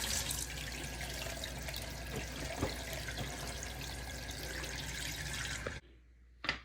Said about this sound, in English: Let's turn on the water.